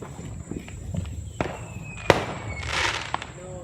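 A firework spinner set off inside a Gatorade bottle at night gives sharp pops and a rising whistling fizz, with a few crackling bursts and a loud bang near the middle, fairly close by.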